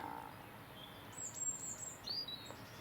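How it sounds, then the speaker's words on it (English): Faint, high robin song phrases come and go over a quiet outdoor hiss, a few short bright strains heard at a distance. "Plenty of robins around, but not much else."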